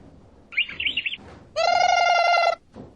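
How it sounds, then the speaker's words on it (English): A canary chirps in quick bursts: a short warbling trill followed by a sustained, bright buzzing trill lasting about a second, close and distinct against a quiet background. "The correct animal is canary."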